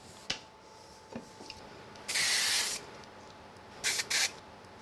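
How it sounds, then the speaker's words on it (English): Spray glue hisses from a can in one longer burst and then two short bursts, close and moderately loud, with light tapping and handling noises between sprays. "I'm going to use a little bit of spray glue on them."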